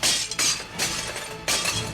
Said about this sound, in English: Every time I hear the crash, it's almost as if there's no other sound except my dreams dying, one plate at a time.